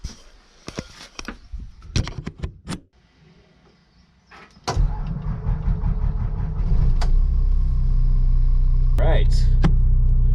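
A bus unused for two weeks sits quietly through some clicks and knocks, then its engine cranks and fires at once into a loud, close, steady rumbling idle that builds and holds, with a few brief rattles on top.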